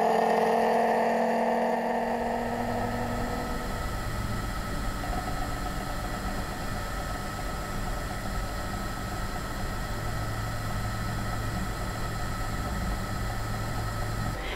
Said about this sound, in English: Now the high scroll is running and we are in the backing pressure regime.